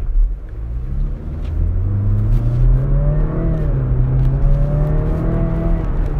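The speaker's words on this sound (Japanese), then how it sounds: "まもなく信号が青になりますので少し強めの加速をしてみましょう。" A Range Rover Velar P250 SUV's engine rumbles and rises steadily in pitch as it accelerates hard from a traffic light, the low drone climbing through the gears with road noise underneath.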